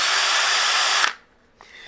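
A handheld power drill whirs loudly and steadily with its speed trigger squeezed, then is released and winds down. A brief, fainter whir follows near the end.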